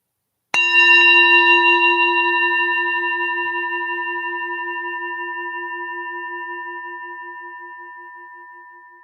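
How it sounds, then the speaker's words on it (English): A single struck singing bowl rings out clearly and alone, its bright, steady tone slowly decaying over many seconds in a quiet setting. "when you hear this final tap of the singing bowl, shift your attention fully to the sound of the bell as it rings."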